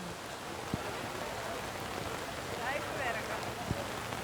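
Steady rain falls over an outdoor compound archery World Cup final in Medellín, Colombia, a constant hiss of drops with a few faint soft taps.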